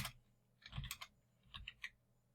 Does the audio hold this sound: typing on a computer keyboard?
yes